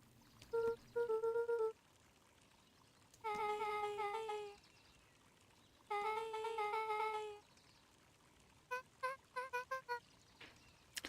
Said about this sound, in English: Does the little cat's voice make you feel like she might murder someone?